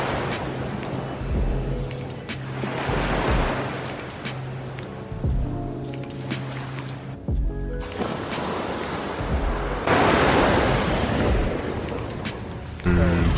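Ocean waves wash onto a tropical beach in long rising and falling swells of broad noise, loud and near, with a few sharper bursts as breakers hit the shore.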